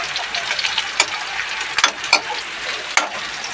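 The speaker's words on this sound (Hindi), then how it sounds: "और चलिए अब डालते हैं प्याज।" Onions dropped into hot oil in a pan, a close sizzling hiss of frying with a few sharp crackles and stirring clatters, no talking.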